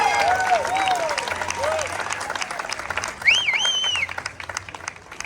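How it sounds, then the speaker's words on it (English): Audience applause fills the background at an Air Force Thunderbirds team event while clear tonal whistles or calls rise and fall over it, the clapping steady and moderately loud. "Huge round of applause for Agent and what she's done."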